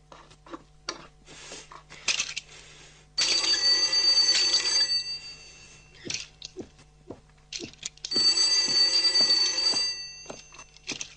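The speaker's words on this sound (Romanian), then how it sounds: "Tu n-auzi telefonul?" Two long bursts of an old telephone bell ringing, a rapid metallic trill repeating with a short pause between them, heard in a home around a family dinner table in a 1975 Romanian film.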